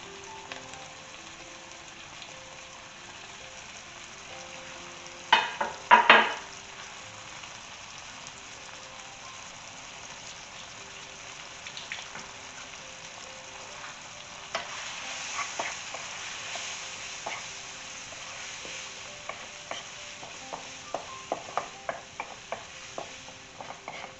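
Lamb rib ingredients frying in a pan with a steady low sizzle, broken by clattering stirs and scrapes of a utensil, a loud cluster early on and scattered clicks later, with no talk.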